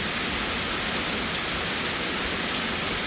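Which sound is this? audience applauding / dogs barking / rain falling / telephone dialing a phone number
rain falling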